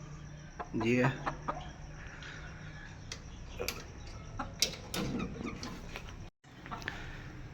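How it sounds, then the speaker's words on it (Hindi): A large Aseel hen clucks in a backyard poultry setup, with short, close calls scattered through the clip while someone talks nearby. "इधर ये बड़ी मुर्गी है"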